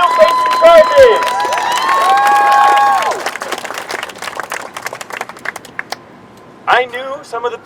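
Crowd at an activist rally cheering and whistling, then scattered clapping that thins out, with a brief second burst of cheers near the end, heard from within the crowd.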